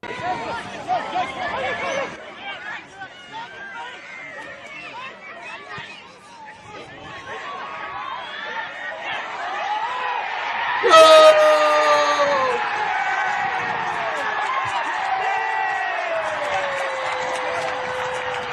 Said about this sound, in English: watch the scenes of absolute jubilation and the crowd at Western Knights